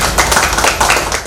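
Audience at a Marathi devotional gathering clapping together, a dense burst of hand claps rising and falling over a little more than a second, fairly loud and close.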